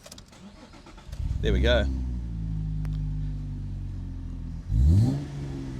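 A Holden Commodore SV6 VF ute with a six-speed manual and sports exhaust cranks and fires into a loud, close idle, then gives one deep rev. A person speaks briefly as it starts.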